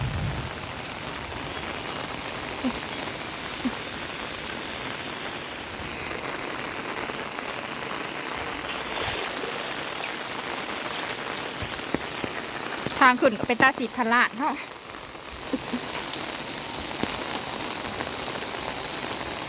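Steady rain patters across an open field while cattle are being herded, a continuous wash of drops with a brief louder burst of splashing near the middle and faint talk underneath.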